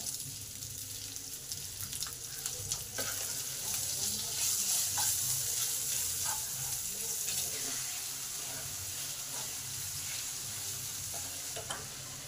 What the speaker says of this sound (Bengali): এই সময় পেঁয়াজ কুচিটা আছে এটা দিয়ে দিলাম। এতে পরিমাণ মতো নুন দেবো, যাতে পেঁয়াজটা তাড়াতাড়ি ভাজা হয়।